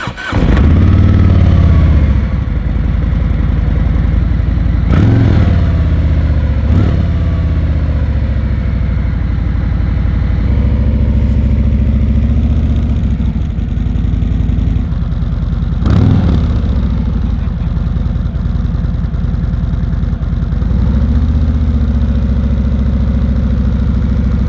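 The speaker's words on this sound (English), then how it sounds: "Let's start it up because, you know, I want to hear this cool engine." A 2018 Harley-Davidson Street Glide Anniversary Edition motorcycle starts up close and loud, then settles into a steady rumbling idle, with a few brief revs blipping the engine higher before it drops back to a low, even throb.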